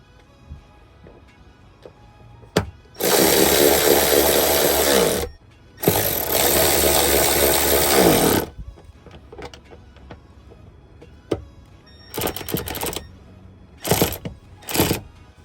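Power tool torquing the intake manifold girdle bolts on a Sea-Doo jet ski engine, two long loud whirring runs of about two and three seconds, then several short close bursts.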